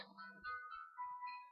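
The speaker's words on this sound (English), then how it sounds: "Oh, excuse me, that's my phone." A mobile phone rings with a melodic electronic ringtone, a bright run of sustained tones that repeats across the moment with no voices.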